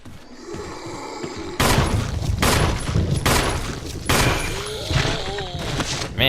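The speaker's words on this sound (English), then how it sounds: "Man, that zombie took a lot of bullets" Heavy gunfire aimed at a zombie in the Resident Evil Remaster game: three booming shots spaced about a second apart, then another blast followed by a warbling groan, with a player speaking faintly underneath.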